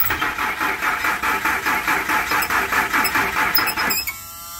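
A 1999 Ford F-150 with a rusty 4.2 V6, just fitted with a new fuel pump, churns in a loud rhythmic pulsing drone with a high whine over it, then cuts off abruptly near the end.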